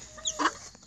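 Chickens at a backyard coop with Lakenvelder hens, quail and Wyandotte birds, one giving a short cluck, close and fairly soft, with faint chirps in the background.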